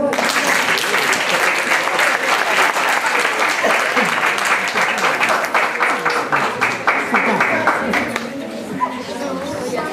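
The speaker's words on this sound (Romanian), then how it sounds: "Aplauze pentru voi!" Loud, dense audience applause at a festive singing event fills the whole stretch, with rapid overlapping claps and crowd chatter, easing slightly near the end.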